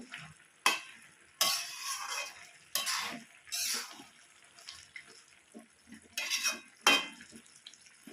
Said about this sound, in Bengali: আমি আবারও খুব ভালো করে নাড়াচাড়া দিয়ে মিশিয়ে নেব।